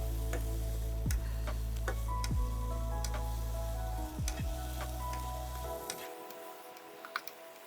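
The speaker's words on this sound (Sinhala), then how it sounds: "මම ඒ ටික දැන් ඔන්න කලවම් කරනවා." Mushrooms with a little sugar being stirred in a hot pan, a steady sizzle under sharp scraping ticks of the spoon against the pan at irregular intervals, stopping abruptly near the end.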